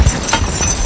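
Horse hooves clip-clopping on a snowy logging site, a few uneven thuds close by with no talking.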